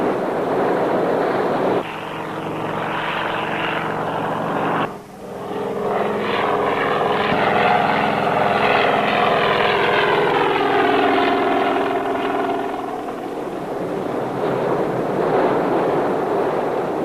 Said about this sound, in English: From all directions, Coast Guard boats and helicopters converged on the area.